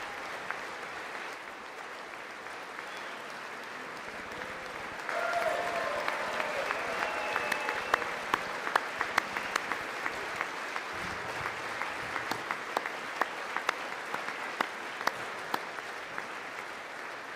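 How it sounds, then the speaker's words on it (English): An audience applauds and claps at length, a dense wash of hands that swells a few seconds in and keeps going with sharp individual claps standing out, moderately loud with no talk over it. "The sound of Trump's clapping."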